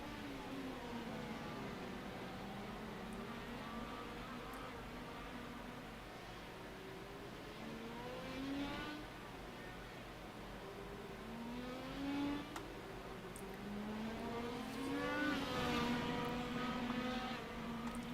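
IndyCar race cars circling Imola in the iRacing sim, a steady engine drone with repeated rising and falling revs as cars pass, faint and continuous with no talk.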